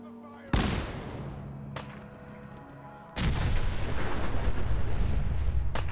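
A grenade blast in Fallout 4 goes off as a loud, broadband boom with a sharp onset, a short echo afterward and a faint later pop, then a second heavy explosive burst that rolls on in a sustained rumble to the end.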